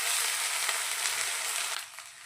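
Ginger garlic paste sizzles in hot oil in a pan for egg curry, a close, steady hiss with faint stirring that eases off toward the end.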